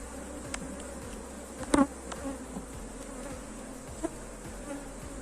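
A honeybee swarm drones steadily at an open hive during an inspection, with dense, even buzzing throughout and a few sharp knocks from handling the frames.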